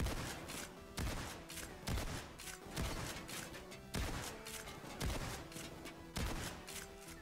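Gunfire in the VR shooter Payday 2 rings out in repeated heavy bursts roughly once per second, loud and close, with rattling shots layered between the bigger blasts.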